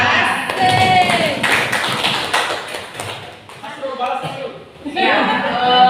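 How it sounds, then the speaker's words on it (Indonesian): Applause at a school gathering, a burst of clapping mixed with voices and chatter that dips in the middle and picks up again at the end. "Tepuk tangan"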